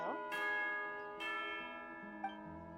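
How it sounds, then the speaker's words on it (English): Tea-time bell in the Genshin Impact video game, two clear bell strikes with ringing sustain over soft game music, moderately quiet. "Yeah, is that the bell?"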